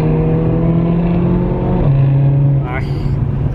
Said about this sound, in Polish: Ach, pięknie brzmią te samochody.